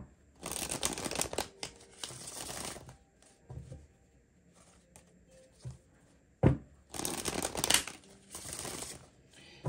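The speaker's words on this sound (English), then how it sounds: "Two more shuffles." Tarot cards being shuffled in several quick riffling bursts, with short pauses and soft handling sounds between them and a sharp tap near the end.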